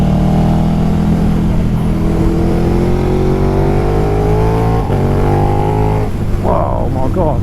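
A KTM 1290 Superduke R motorcycle accelerating hard on twisty country roads, a loud continuous engine roar with rising pitch through the gears, close and steady, with a brief dip near the end.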